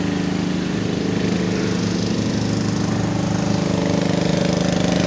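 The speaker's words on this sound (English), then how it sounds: "Forgive me for the lawnmower." A lawn mower runs nearby in a community garden in Delaware, its engine droning loud and steady throughout with a buzzing, rattling tone and no talking.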